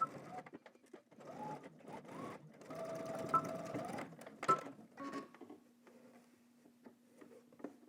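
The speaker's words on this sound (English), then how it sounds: "we're gonna top stitch to secure it" A sewing machine top stitching fabric runs in short, quiet bursts of rapid needle clatter, pausing between runs and ending with a low steady hum.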